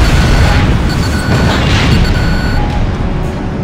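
A tank explodes in the Ace Combat Infinity video game, a loud, dense, sustained blast roar that fills the whole stretch with heavy low rumble and noisy crackle.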